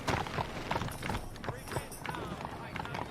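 Hooves beat a rapid, uneven rhythm as horses trot nearby in the video game Red Dead Redemption, with people talking over the clatter.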